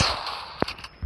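A single sharp gunshot cracks once in a video game, short and punchy against a faint background, with a couple of softer clicks around it.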